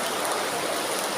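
Water flows and trickles steadily inside Kaklık Cave, a close, continuous broadband rush with no voices over it.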